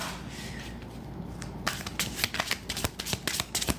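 Playing cards shuffled and drawn during a tarot-style reading, a steady soft riffling that gives way to sharp, close card flicks and snaps in an irregular run, with no talking.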